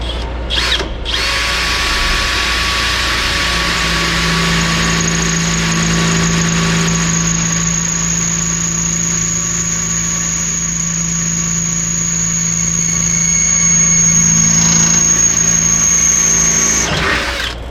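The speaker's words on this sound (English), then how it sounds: "I'm gonna get back to drilling here." A loud power drill whirs continuously at close range, drilling through the rocker panel of a 2007 Chevrolet Silverado, its motor whine holding steady with a high squealing tone for most of the stretch.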